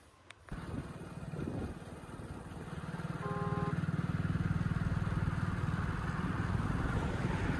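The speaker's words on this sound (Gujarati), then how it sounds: "લઈ લ્યો આપણી બાઇક ને હવે લઈને જવાનું છે આપણે બારે" A motorcycle starts and pulls away with a steady, close engine drone that builds and holds, with no talk over it.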